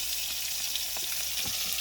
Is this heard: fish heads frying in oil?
yes